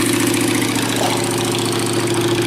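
Close, continuous idle of a motorcycle engine, a steady low throb with a faint regular knock, unbroken and without speech, from a bike that had stood unused for two weeks in cold weather.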